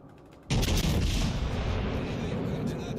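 Heavy naval gunfire in the World of Warships Legends video game erupts half a second in as a loud, booming salvo, then rumbles on in a long, dense roll of echoing blasts that slowly fades.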